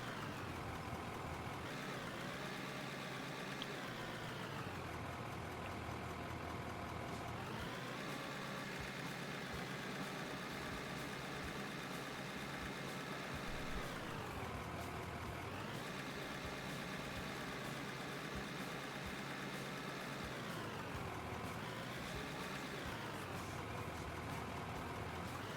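A tractor engine in the mining game Out of Ore, running steadily throughout with a low, continuous drone whose pitch rises and falls in repeated cycles as the machine revs up and settles back down.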